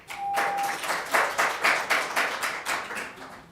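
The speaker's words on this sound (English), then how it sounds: "please do not applaud" Audience applause at a school board meeting, a modest burst of rhythmic hand clapping heard from a distance that stays fairly steady, then tapers off, with no talk over it.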